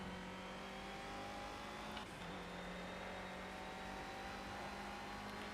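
Race car engine in the video game Project Cars, a steady sustained drone heard alone at low level, with a brief pitch dip around the midpoint as the car slows.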